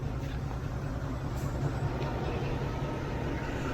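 Chinese ZU20 diesel locomotive hauling the Sialkot Express, a steady loud rumble with a low engine drone held at one level throughout, no pauses and no voices.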